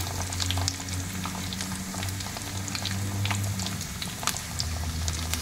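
A pork chop sizzles steadily in a hot pan, with a continuous loud frying crackle, scattered pops and a low hum underneath, and no voices.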